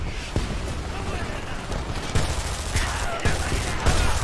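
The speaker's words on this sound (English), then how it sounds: "We've got him flanked. Lay down some fire." Video game gunfire in Homefront: a dense, loud fusillade of rapid rifle and machine-gun bursts with sharp individual cracks throughout, with some voices mixed into the battle.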